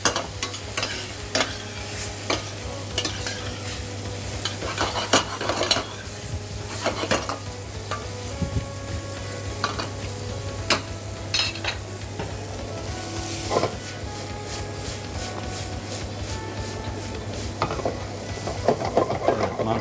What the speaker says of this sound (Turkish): Evet, mantarımızı da yeterince söteledik.